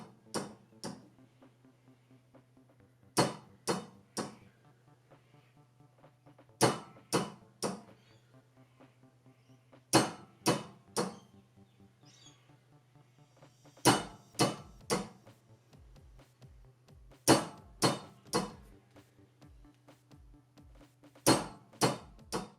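A test hammer strikes 3D-printed samples with sharp hard knocks in quick clusters of three or four, repeated at intervals, fairly quiet with stillness in between.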